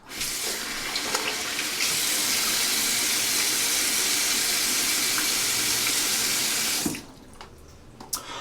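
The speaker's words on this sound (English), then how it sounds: "Let me just wet my face real quick before I move on to the next step" Tap water running into a sink while a face is wetted before shaving, a loud steady gush that stops abruptly near the end, followed by faint drips and splashes, with no talking.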